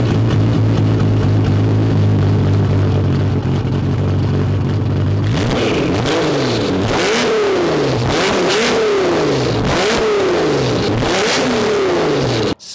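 A 1993 Nissan R32 GTR with a Tomei titanium exhaust idles with a deep burble, then revs hard in repeated rising and falling bursts, loud and close with no talking.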